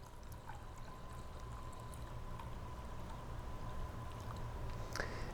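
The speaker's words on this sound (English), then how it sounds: "Now we're just going to add the water." Water poured onto washed rice in a pot, a steady, soft continuous stream with a low rushing undertone and a faint metallic tick near the end.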